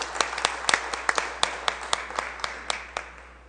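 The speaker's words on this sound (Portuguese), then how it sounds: "Uma salva de palmas" Sparse clapping in a municipal council chamber at the opening of a session, a dozen or so distinct claps in a loose rhythm, fading toward the end over a low hum.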